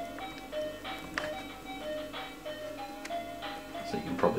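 Sega Master System game music and sound effects, played at 50 Hz and 60 Hz refresh rates for comparison; a bright, bleepy chiptune melody of short tonal notes with percussive blips runs continuously at moderate volume, no talking.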